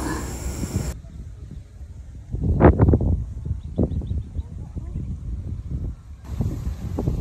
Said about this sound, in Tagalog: Mukhang papasukin at pinasok na talaga tayo ng bagyo. Ayan sobrang hangin.